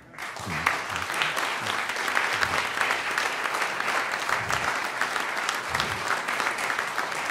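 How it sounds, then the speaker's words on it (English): An audience at a Toscanini event in a New York bookstore applauds for several seconds, a dense, steady patter of clapping hands with a few stronger claps. "Another applause."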